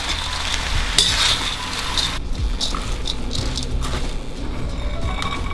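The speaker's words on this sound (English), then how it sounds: "So right now, we're just going to stir it up. Make sure that the rice is nicely coated with all the oil" Sticky rice is stir-fried in oil in a wok, with a continuous moderate sizzle, scraping of the spatula and occasional metallic clinks, no voices.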